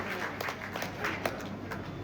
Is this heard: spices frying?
no